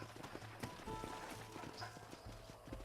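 Rapid clip-clop of several horses' hooves trotting in the Western video game Red Dead Redemption, a steady galloping rhythm at moderate distance with faint background ambience.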